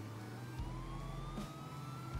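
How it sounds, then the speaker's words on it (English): Vehicle siren in State of Decay 2, a steady wailing tone with a slowly rising pitch over a low engine hum, heard alone without talk. "I just turned the sirens on."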